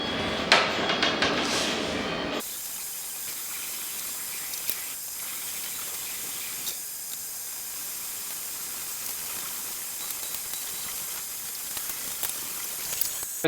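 A Harley-Davidson Panhead chopper fender gets bungs tack welded onto it, heard as a steady close hiss and crackle that runs on after a brief louder opening burst.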